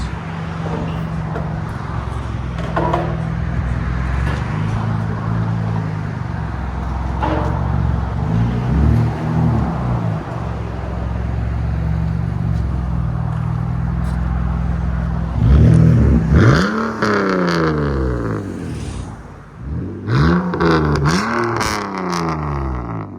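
A 2002 BMW Z3 3.0-litre inline-six with true dual straight pipes drives past and away, a steady exhaust drone building into several loud revving pulls with rising and falling pitch as it accelerates and shifts.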